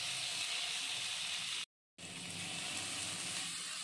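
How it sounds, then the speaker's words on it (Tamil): Steady loud sizzling of a chopped large tomato sautéing in a hot pan for paneer biryani, with a brief silent break before the sizzle resumes, close up and continuous. "தக்காளியை நல்லா வதக்கிக்கலாம்."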